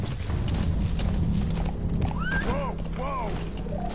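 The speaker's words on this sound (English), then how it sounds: "horse riding." Rhythmic hoofbeats of a galloping horse in the video game Metal Gear Solid V: The Phantom Pain, over a low rumble, with a couple of whinnies in the second half.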